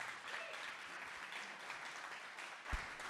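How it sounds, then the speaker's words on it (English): Applause from a conference audience at a Bitcoin mining talk, dense continuous clapping from a sizable room, fairly even throughout with a brief louder knock near the end. "So a big round of applause to Jason."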